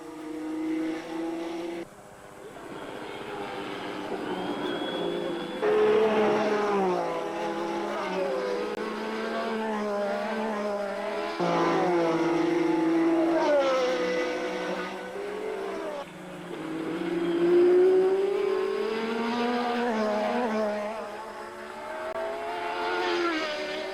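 Renault Formula 1 race cars from the 1980 season racing at speed, their high-pitched engine notes climbing and falling in steady sweeps as they pass, loud and continuous for the whole stretch.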